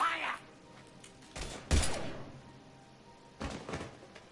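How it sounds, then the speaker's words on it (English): Gunfire in the video game Mass Effect 3 comes in a few sharp bursts separated by pauses, mixed with thuds and game ambience at moderate loudness. "Now open fire!"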